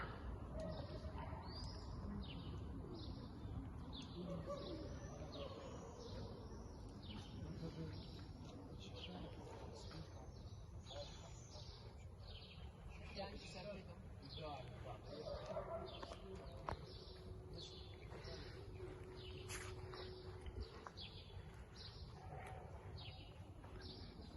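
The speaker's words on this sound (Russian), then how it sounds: "птицы поют." Birds sing on a morning street in Kyiv, a steady run of faint repeated chirps and calls above constant low city hum, with indistinct voices mixed in.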